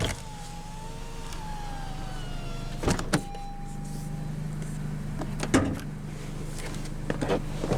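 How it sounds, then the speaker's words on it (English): An electric driver's window motor on a 2020 Honda Civic Si sedan whines steadily for a few seconds over the idling engine, followed by a couple of sharp clunks. "Now we'll roll down the driver's window"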